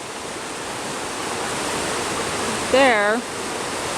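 Hot water pours steadily from a tube into a mortared hot pool in a burn area near McCall, Idaho, a broad continuous splashing wash with a brief spoken word near the end.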